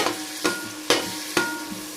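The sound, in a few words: onion paste frying in oil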